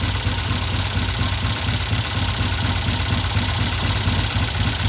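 A 1969 Norton motorcycle engine idles close by with a steady, loud, rhythmic low thumping pulse that does not change throughout.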